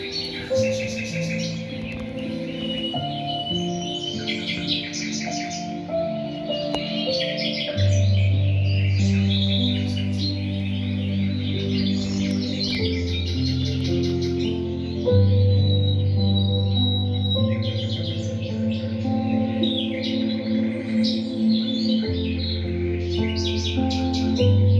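Recorded birdsong plays back through a projector setup in a bedroom, with repeated chirps and tweets over a sustained low musical drone, fairly loud and continuous, with no talking.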